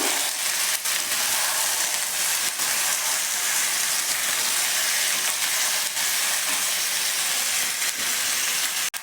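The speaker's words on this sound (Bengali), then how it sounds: "যে মাংসটা আমি আধ ঘন্টার জন্য ম্যারিনেট করে রেখেছিলাম সেই মাংসটা এর সাথে দিয়ে দিলাম দিয়ে খুব ভালো করে কষবো" Marinated chicken fries in a pan for a Bengali doi chicken, giving a steady, loud sizzle and hiss that runs unbroken throughout, with a few faint clinks and no talking.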